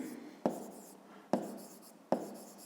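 A pen strikes paper three times at roughly even intervals as a measurement is noted in a 5th-grade maths exercise, each a sharp close tap followed by brief scratching in a quiet room.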